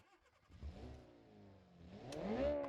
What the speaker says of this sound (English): Yeah, the exhaust is quite loud,